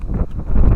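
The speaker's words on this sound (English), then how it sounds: "it's too windy." Strong, gusty wind blows outdoors and buffets the microphone with a loud, low, rumbling roar that swells toward the end.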